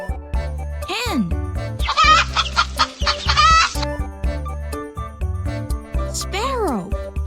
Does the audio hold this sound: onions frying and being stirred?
no